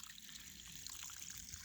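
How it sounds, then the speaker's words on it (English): A small spring trickling out of the ground and flowing into Roush Creek, a soft, steady outdoor water babble heard alone throughout. "this little spring comes out of here and flows into Roush Creek"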